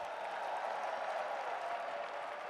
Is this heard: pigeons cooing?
no